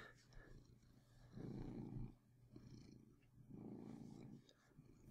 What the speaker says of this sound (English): Cat is purring.